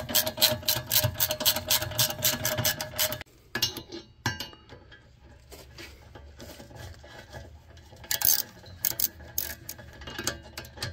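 A ratchet tightens the hub assembly bolts on a Gen3 Toyota Prius (2010-2015), with a dense run of rapid metallic clicking for about three seconds, then quieter, intermittent ratcheting clicks and scraping close by.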